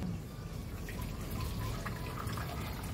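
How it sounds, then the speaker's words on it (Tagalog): Water is poured into the reservoir of an Imarflex coffee maker, a quiet continuous trickling and splashing stream heard up close at low volume without talk. "And, lagyan na natin ng tubig."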